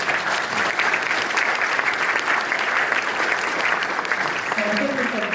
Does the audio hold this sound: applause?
yes